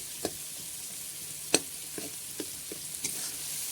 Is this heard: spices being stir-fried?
yes